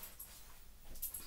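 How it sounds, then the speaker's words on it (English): A dog whimpers and pants softly on a kitchen floor, with brief faint whines and breathy sounds close by in a quiet room. "my dog, who is currently on the floor"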